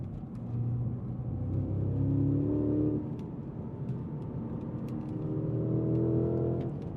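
A sport sedan accelerates hard with its internal combustion engine revving up through two pulls, a steady loud drone rising in pitch, heard from inside with road rumble and no talking.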